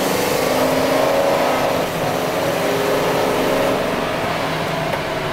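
Engine of a U-Haul 14-foot Ford box van accelerating, a loud, steady drone with a low rumble and harmonic hum holding for several seconds, heard alone without talk.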